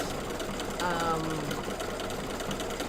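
Multi-needle embroidery machine running steadily with a fast mechanical chatter and hum, close and continuous throughout, with some background noise layered over it.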